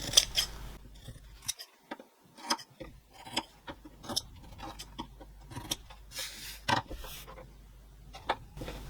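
Sharp scissor snips trimming the corners of a sewn fabric piece, about a dozen crisp, close cuts coming in irregular bursts with brief pauses between them, and no voices.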